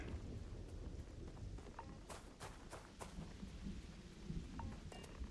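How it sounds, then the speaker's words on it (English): Thunder and rain in the video game Starfield: a low steady rumble and rain wash, fairly faint, with scattered crackling strikes, and no voices. "We're freezing from the rain."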